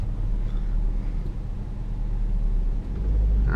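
A manual transmission car in first gear on a slight hill, its engine a steady loud low rumble from inside the cabin that swells slightly near the end as it pulls away.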